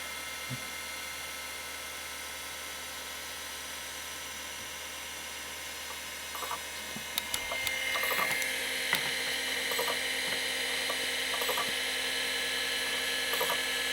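A Seagate ST-251N SCSI hard drive undergoing a low-level format emits a constant high-pitched whine with a low hum, then rapid mechanical ticking and seeking clicks that grow busier halfway through, close-up and steady, with no talking.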